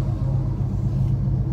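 Loud custom car with an Airlift air suspension setup idling close by, a deep, heavy low rumble with a steady throbbing pulse and no voices over it.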